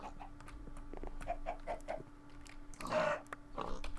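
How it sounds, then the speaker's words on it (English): A chicken in a video game clucks in a short series of soft, evenly spaced calls, followed by a louder burst of squawking, all faint and without talk. "We have a chicken we can kill."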